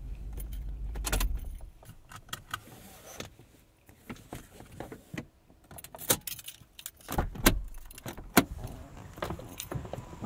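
The physical key of a Toyota 4Runner jangles in bursts of close metallic clinks and rattles, with quieter handling sounds in between and no talk.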